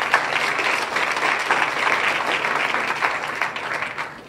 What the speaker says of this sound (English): I would like to have a round of applause for all 50 of our fastest growers